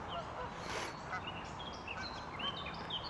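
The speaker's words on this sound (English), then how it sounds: "I've got some bird sound." Waterfowl such as geese or ducks call intermittently at a lakeside nature spot, with a faint honk among scattered bird calls over a continuous outdoor background rumble.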